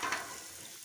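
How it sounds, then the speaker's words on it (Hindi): Fish shallow frying in cooking oil over low heat, a soft continuous sizzle and crackle, close and fairly quiet throughout. "इसको हल्की आंच पे आप फ्राई करें।"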